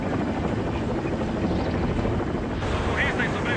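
Loud, steady thudding rotor roar of a helicopter hovering low above rescuers and survivors, continuous and close throughout.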